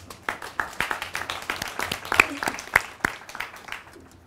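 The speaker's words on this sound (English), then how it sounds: "Let's give our graduates a tremendous round of applause." Scattered, fairly faint clapping from a small crowd at an outdoor university graduation ceremony in Ongediva, Namibia, in honour of the graduates, with irregular individual claps over a soft background murmur.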